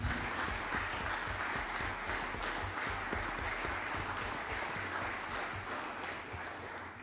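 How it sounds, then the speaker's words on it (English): Applause in the chamber during a Senate floor session, a steady, even wash of many people clapping at moderate level that continues for about seven seconds with no voices over it. "So give Aaron another big round of applause for."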